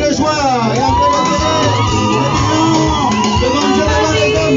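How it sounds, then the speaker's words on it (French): A wedding crowd cheers with loud shouts and cries of joy, a dense sustained roar of many voices close by filling the whole moment. "On accompagne avec les cris de joie"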